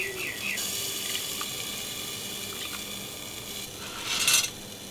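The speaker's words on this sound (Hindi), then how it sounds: "चावल में डाला पानी" Water runs and splashes steadily into a container of cooked rice nearby, with a brief louder gush near the end; no one speaks.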